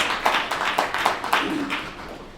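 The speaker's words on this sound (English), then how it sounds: "Another round of applause for both of these lovely" Close, sparse clapping from an audience at a college talk with quilters, a handful of distinct claps in an uneven rhythm rather than a full ovation.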